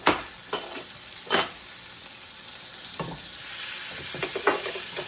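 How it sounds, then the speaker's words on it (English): Butter melting and sizzling in a cast iron pan, a soft steady hiss broken by a few sharp clinks and scrapes of stirring, close by with no talking. "I'm using my cast iron pan, and I'm going to use butter, as I mentioned."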